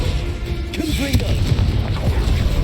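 A Confringo spell blast in Hogwarts Legacy lands as a booming impact, with a thud and a crackle amid steady game background noise and tonal effects, and a voice speaks over it.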